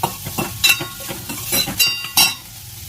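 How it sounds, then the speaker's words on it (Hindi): Onions frying with a sizzle in a pan, with several stirring scrapes and light clinks of a utensil, close by, no talking. "अब हम सिर्फ प्याज को भूनेंगे"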